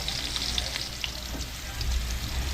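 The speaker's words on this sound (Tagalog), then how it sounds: "Gisa na tayo." Ingredients sizzle and fry in a hot pan as a Filipino dish with bitter gourd and egg is sautéed, a steady close crackle with occasional stirring scrapes and no talking.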